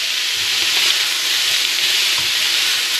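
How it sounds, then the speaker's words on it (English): Tomato-based Bolognese sauce bubbles and sizzles steadily in a pan as tomatoes are smashed down, a close, continuous hiss with faint soft knocks underneath and no voices. "just let this thing boil down, smash down the tomatoes"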